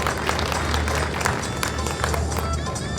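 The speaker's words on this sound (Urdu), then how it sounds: "بھرپور میں اتنی کم تالیاں کیسے ہیں؟ زیادہ بجائیں." Dense, steady applause from a seminar-hall audience fills the space, a continuous crowd clatter with faint voices murmuring underneath.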